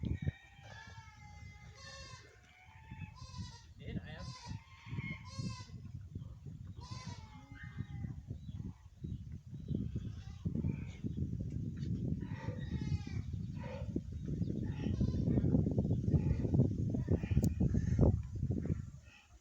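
Several goats bleat repeatedly, their wavering cries overlapping at moderate distance, with a steady low rumble of background noise building underneath.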